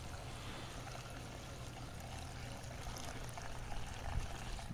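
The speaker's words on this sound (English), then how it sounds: "I'll hold the camera while I pour gas" Gasoline poured from a can into the fuel tank of a go-kart lawn mower, a soft continuous liquid trickle and stream heard close up without talk.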